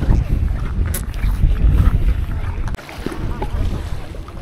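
A fishing boat's engine drones steadily over rushing sea water and wind buffeting the microphone off Calatagan, Batangas, loud and close, with a brief drop midway.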